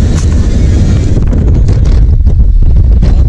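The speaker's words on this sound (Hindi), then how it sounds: "तेज हवा चल रही है" Strong wind buffets the microphone with loud, steady low rumbling throughout, on a road trip from Pathankot to Banihal, with no talk.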